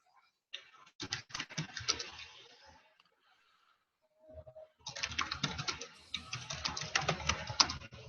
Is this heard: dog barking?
no